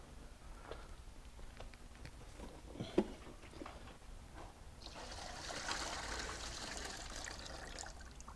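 Water flushes through the cooling system of an Audi A4 that leaks coolant, starting as a low trickle with a single clank and then swelling into a steady rushing gush for the final seconds.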